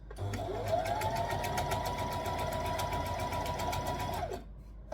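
A sewing machine stitches a Tulip Tee knit shirt around a curve, running in a steady, fast, continuous whir at close range, its motor pitch rising as it speeds up, then stopping abruptly near the end.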